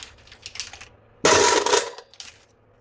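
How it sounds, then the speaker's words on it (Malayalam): Mussels in their shells are dropped into a cooking vessel. A few light clicks come first, then a loud clattering burst as a batch lands. Scattered taps fade out afterward, close up with no talk. "നമുക്ക് ഓരോ കല്ലുമ്മക്കായും ഈ പാത്രത്തിലേക്ക് നമുക്ക് ഇട്ട് കൊടുക്കാം."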